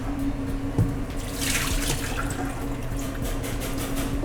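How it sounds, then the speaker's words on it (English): Ice water running out of a kitchen sink after chilies have been scrubbed, a steady close splashing drain with a faint hum underneath, with no one talking. "So now we're just draining the rest of the ice water out."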